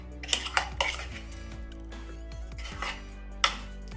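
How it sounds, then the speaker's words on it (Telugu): Raw mango pickle being mixed in a bowl, a handful of sharp clinks and scrapes of a utensil against the dish, spaced irregularly over a quiet background hum. "ఇలాంతా కూడా కలిసే విధంగా కలిపేసుకోవాలి."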